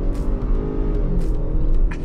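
A 2023 Dodge Durango GT engine idles steadily with a low, even rumble, close and fairly loud, with a few faint background noises over it and no talk.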